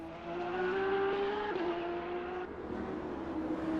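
A GT3 race car at the Nürburgring 24 Hours rolls into pit lane, its engine droning steadily at moderate distance with a slight pitch dip midway, heard alone with no voices.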